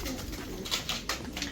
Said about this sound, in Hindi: और भाई हमारे सभी कबूतर आ चुके हैं बाहर, देख सकते हो आप लोग।